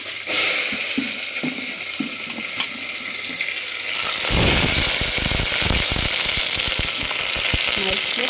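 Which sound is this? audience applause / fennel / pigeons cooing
fennel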